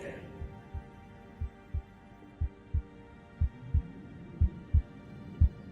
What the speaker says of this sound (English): You can hear your own heart beating.